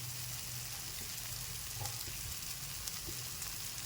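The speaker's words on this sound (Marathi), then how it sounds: "आता आपण याला थोडस फ्राय होऊ देऊ" Urad dal appe fry in an appe pan, giving a faint, steady sizzle with a few small ticks and pops, quiet and without any talking.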